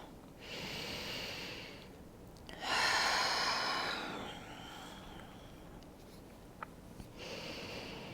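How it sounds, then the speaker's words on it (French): Slow, deep breathing during a seated yoga twist: long, soft airy inhales and exhales follow one another, close and quiet, with no speech. "3 profondes respirations ici."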